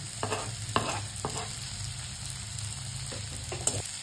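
Capsicum and ginger fry in a pan while being stirred, a close steady sizzle broken by several scraping spatula strokes.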